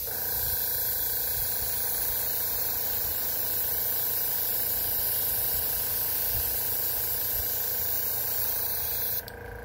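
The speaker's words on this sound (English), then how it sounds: "Spray it up." An airbrush hisses in one continuous, close and steady spray while coating a copper green shad jerk bait lure, then cuts off near the end.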